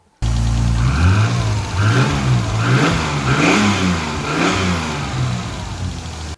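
A BMW E30 fitted with a turbocharged M52 engine, on its first start after winter servicing, is revved repeatedly in rising and falling surges, loud and close, with a rough, diesel-like note and no talking.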